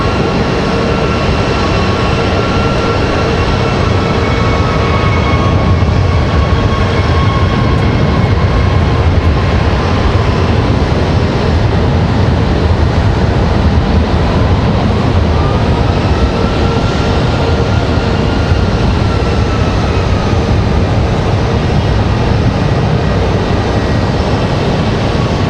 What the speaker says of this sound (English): There we go, the A321 up and out.